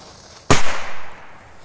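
A small leftover firecracker from a strip bursts in one sharp, loud bang outdoors, followed by a brief fading rumble and crackle.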